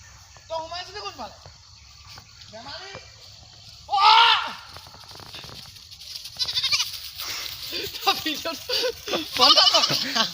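A goat bleats repeatedly on a farm in Assam, wavering cries coming in bursts across the clip, some loud and close, with people talking in between.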